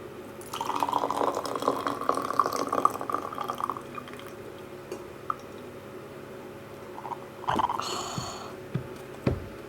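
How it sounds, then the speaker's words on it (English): Hot water poured in a thin stream into a gaiwan while brewing Yancha tea, a steady close trickle for several seconds, then a few clinks and faint drips. "Slowly lift it up and make the water run like a stream"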